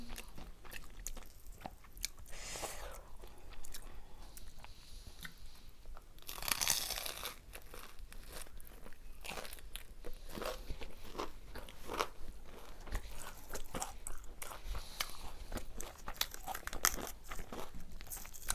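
Crispy fried soft-shell crab coated in Korean spicy sauce is bitten and chewed close to the mic, giving repeated crunches and crackles at a quiet level with no talking.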